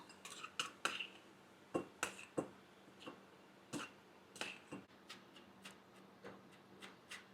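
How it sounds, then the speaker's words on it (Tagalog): Cooked elbow macaroni is scooped into a mixing bowl, giving sharp metallic spoon clinks and scrapes in irregular bursts, faint and close in a quiet kitchen. "So the cooked elbow macaroni, I will transfer in my mixing bowl."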